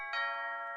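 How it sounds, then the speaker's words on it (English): A cartoon doorbell rings once at Miffy's house, a clean, bright chime with sustained ringing tones that fade gently, heard alone without any talking. "the doorbell at Miffy's house rang."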